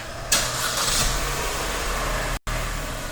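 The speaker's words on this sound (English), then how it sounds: "The vehicle will crank start." A 2012 Chevrolet Cruze engine cranks and fires up by remote start, a loud close burst settling into a steady idle rumble, with one brief dropout near the end.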